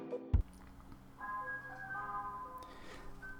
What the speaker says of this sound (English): The fucking ice cream truck, man.